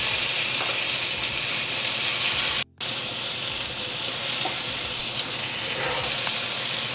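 Venison and kimchi pot stickers fry uncovered in a pan, giving a steady, loud sizzle and crackle that runs unbroken except for a split-second dropout partway through.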